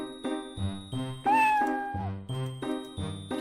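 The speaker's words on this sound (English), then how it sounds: "Cat." A cat meows in the middle of a repeating game music loop, one drawn-out, rising-then-falling cry that sits close and clear over the steady rhythmic tones.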